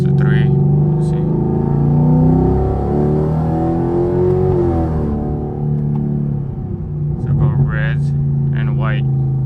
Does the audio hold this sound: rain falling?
no